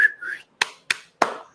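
A human voice mimics an old man's mouth whistle: a thin rising whistled tone, then three sharp, breathy puffs spaced evenly apart, close and clear with no talking.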